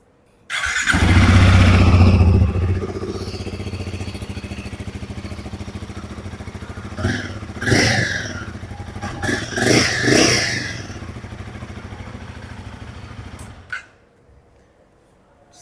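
A Royal Enfield Guerrilla 450 motorcycle idles loudly and close by, its exhaust giving a steady thrum broken by a few short revs before the engine cuts off near the end.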